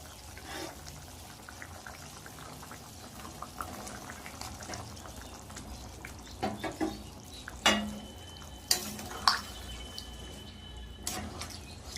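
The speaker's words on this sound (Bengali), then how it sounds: "এই দেখো ঝোল কিন্তু টকবক করে ফুটছে" Curry gravy for masala paneer bubbles gently in a pot, with soft, irregular blips and pops over a quiet hiss and a few louder clinks near the end.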